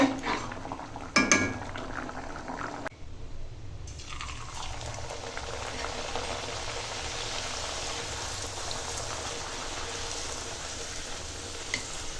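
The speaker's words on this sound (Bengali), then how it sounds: "এবার ফুটে যাওয়া পর্যন্ত অপেক্ষা করবো" Chana dal (split chickpea lentils) simmering in a pot gives a steady, dense bubbling hiss with no voices, after a few brief clatters at the start.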